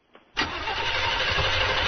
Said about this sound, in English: Can I start the car and you can kind of tell me what it sounds like to you?